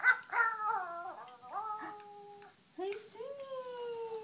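A pet dog howls in long, wavering, tuneful notes that sound like singing, several drawn-out cries with a short pause before a final rising howl, close and clear, with a brief spoken word at the start.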